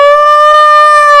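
A voice imitates a police siren while telling a story to fourth graders, producing a loud, steady, pure wailing tone held alone for just over a second.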